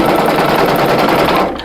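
A single-needle embroidery machine stitches an applique heart patch, a loud rapid mechanical chatter running evenly and close-up before easing off at the end.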